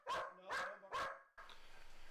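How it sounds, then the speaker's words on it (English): A dog barks three times in quick succession, loud and close indoors, and a short stretch of faint room noise follows. "Why are you barking, dog?"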